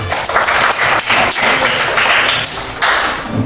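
Students in a classroom counselling session clap together, loud close hand claps with a few sharp accented beats and rising bursts of clapping over a few seconds, no speech.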